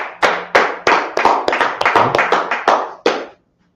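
A group of people clap their hands in a brisk, roughly even run of about a dozen sharp claps, close and loud, ending abruptly in silence.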